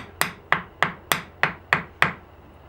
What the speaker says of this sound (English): Tap it on with a hammer.